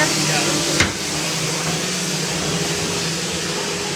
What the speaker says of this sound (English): Try to get away from the people sanding.